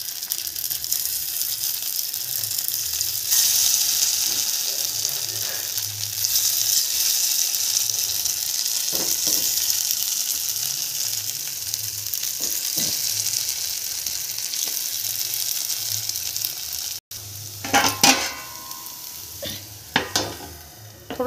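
Fasting vadas frying in hot oil, a dense continuous bright sizzle that holds for a long while, followed near the end by a few sharp clinks and scrapes; no one speaks.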